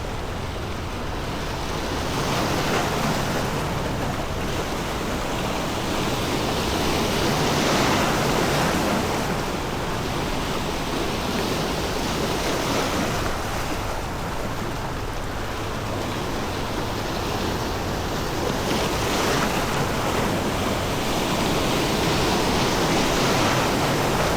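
Sea waves wash steadily beneath a shoreline spot used for sea bass fishing, a broad continuous surf roar with gentle swells and some wind across the microphone, no voices.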